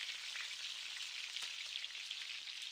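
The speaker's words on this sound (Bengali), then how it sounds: "এখন সব কিছুকে একসাথে কিছুক্ষণ এইভাবে ভেজে নিচ্ছি।" Okra and potato frying together with ginger and green chili paste in a pan, producing a continuous soft hiss and fine crackle, close and quiet, steady throughout with no voices.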